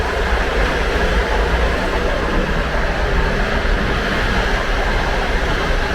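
Continuous rumble and rattle of a Soviet-era sleeper train in motion on one of Europe's last such routes, steady and fairly loud throughout with no break in the rolling noise.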